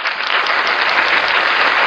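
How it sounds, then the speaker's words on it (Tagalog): An audience breaks into loud, dense applause at a church teaching gathering, sustained and even throughout with no voices on top. "So dapat niyang pinapalakpakan yan."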